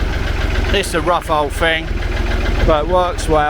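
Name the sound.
old forklift engine running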